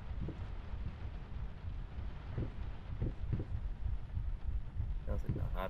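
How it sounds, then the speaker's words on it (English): In the horror video game Layers of Fear, a low heartbeat thumps in a steady repeating rhythm under a noisy, rumbling ambient bed. "Sounds like a heartbeat."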